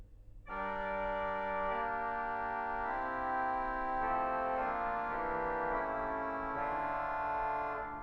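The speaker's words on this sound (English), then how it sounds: "Wonderful oboe." A reedy, nasal oboe reed stop on the Bristol Cathedral pipe organ plays a slow, sustained melodic line with a soft accompanying chord, resonant and unaccompanied by voices.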